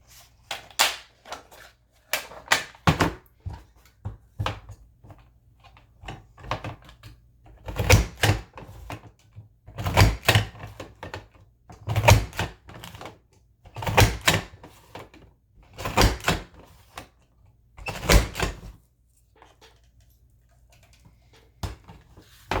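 A handheld craft punch goes through paper with a series of sharp, close clicks and clunks, about a dozen spaced a second or two apart, with quiet gaps between each press.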